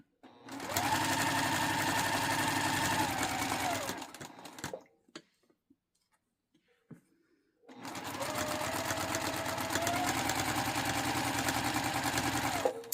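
Sewing machine stitching a home-decor valance very close to the fabric edge runs in two long steady bursts of loud motor whir, separated by a few seconds of near silence with faint handling noises.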